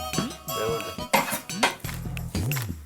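Steel vessels and utensils clink and clatter nearby while a pot is washed in a home kitchen, with brief knocks and rattles in an irregular rhythm.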